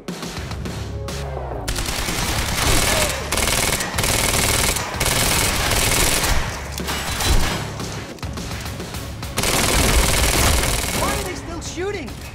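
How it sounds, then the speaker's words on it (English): Rapid automatic gunfire in Quantum Break, dense bursts of shots rattling loud and close for the whole stretch, broken by short gaps and crashing impacts, with voices now and then beneath the shooting. "Shooting!"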